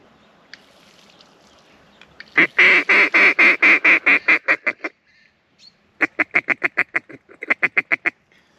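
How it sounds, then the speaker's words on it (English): Mallard ducks quacking loudly and close on a stream during a morning duck hunt, a rapid run of about a dozen quacks, a pause, then another quick series, with no talking. "Single mallard just landed, but further down the stream."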